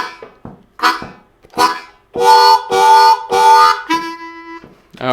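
Chugging lick number 5 on an A harmonica, with a double stop on holes 3 and 4 draw: a few short breathy chugs building into sustained loud chordal notes, close and clear, ending on a held tone.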